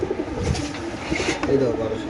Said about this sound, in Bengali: এখানে আছে একজোড়া কবুতর